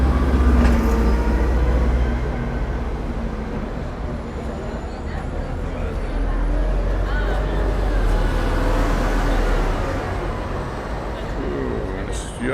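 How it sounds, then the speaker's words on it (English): Buses rolling past on a street in Palma de Mallorca, a steady low engine rumble and traffic roar that swells and eases, with people talking nearby. "You can see the buses coming through now"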